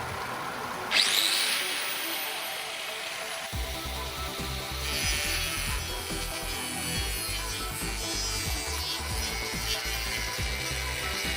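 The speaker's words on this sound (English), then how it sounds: "the angle grinder," An angle grinder spins up and grinds continuously, a harsh gritty rasp with a droning motor underneath, powered by a microwave-transformer generator.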